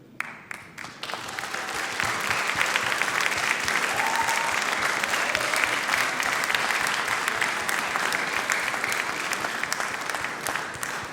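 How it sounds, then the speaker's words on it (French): An audience applauds Elliot Bélizaire at a closing ceremony: a few scattered claps at first, then dense, sustained clapping that holds steady and fairly loud for the rest of the stretch. "Elliot, tu es très applaudi"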